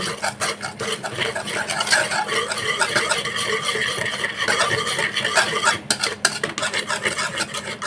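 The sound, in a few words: stirring lumpia wrapper batter with water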